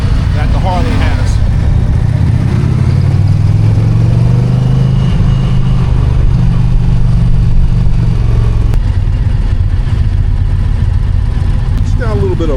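An Indian motorcycle engine rumbles steadily with a low, throaty exhaust tone, close by, while someone talks over it.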